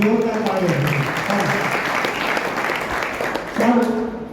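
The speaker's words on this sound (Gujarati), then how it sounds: "મંચ ઉપર આવી એટલે જોરદાર તાળીઓથી આપણે એને અભિવાદન કરી લઈએ મિત્રો" Applause for the winning teams at a Class 9 school quiz event rises as a steady wash of clapping, with voices heard at the start and end.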